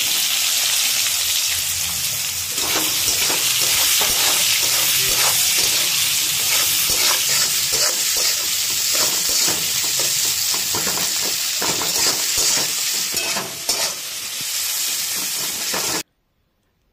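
Onions frying in oil left over from frying fish and potatoes for a quick Bengali fish dish: a steady, close, loud sizzle with occasional stirring scrapes, no voices, ending abruptly.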